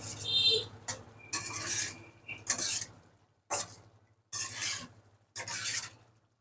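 Kuche fish, a type of eel, is stirred in a pan on the stove with a spatula in six or so short scraping, sizzling bursts separated by brief pauses, close and fairly loud.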